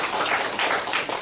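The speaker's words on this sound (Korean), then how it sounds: "그 박수 실컷 치야지." A lecture audience applauds, a dense wash of many hands clapping at once, continuous and fairly loud with no voices over it.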